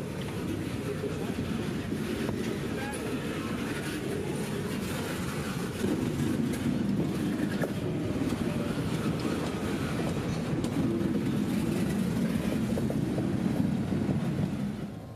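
Local freight train 0710 backs slowly through Lakeland toward a furniture plant siding, with a low steady rumble of railcars and wheels, faint clicks and a squeal, at moderate distance; voices can be heard at times.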